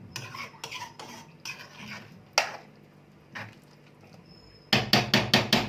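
A spoon scrapes and clinks in a pan as eggs with green coriander are stirred, with a cluster of sharp metallic taps near the end.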